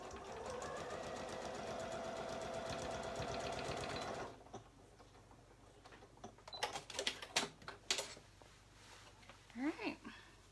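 A sewing machine stitches a garment waistband in a fast, even run of needle strokes for about four seconds, then stops, followed by quiet handling clicks and rustles of fabric.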